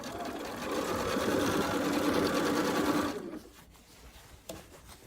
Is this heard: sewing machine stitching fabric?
yes